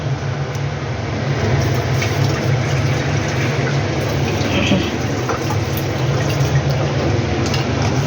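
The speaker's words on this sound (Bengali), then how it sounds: "এবার এই বাটিটা ধুয়ে একটু আমি জল নিয়ে নেব" A bowl being rinsed and filled with water from a tap in a home kitchen while cooking fish, heard as a steady, loud rush of running water that continues unbroken throughout.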